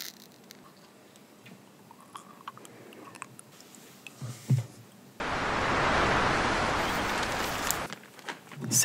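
Moist crunchy chewing of a raw aloe vera leaf, close to the mic, rising to a dense, loud stretch of wet mastication in the middle before fading back to soft mouth sounds.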